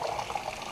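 Warm water poured into the reservoir of an Aerogarden Bounty Classic hydroponic planter, a brief steady gushing splash close by.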